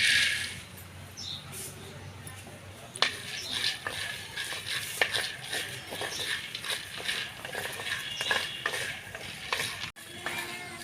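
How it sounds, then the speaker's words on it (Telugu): Peanuts and lentils (red lentils, chana dal, toor dal) dry-roast in a pan, with rattling, scraping stirring strokes throughout and a sparse, faint dry crackle. "పప్పులు ఇట్లా వేయించిన మాడిపోకుండా కొద్దిగా కొద్దిగా ఎర్ర కలర్ వచ్చినాక వేయించుకోవాలి ఎర్రపప్పు శనగపప్పు కందిపప్పు ఇగో ఇప్పుడు పల్లీలు వేస్తాను"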